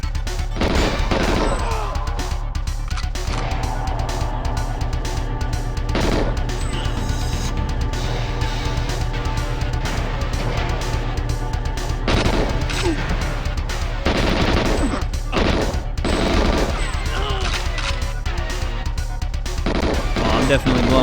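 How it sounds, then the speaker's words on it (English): Gunfire in the first-person shooter GoldenEye 007, with repeated loud bursts and single shots cracking across the whole stretch amid game music and ambience. "Someone's shooting at us."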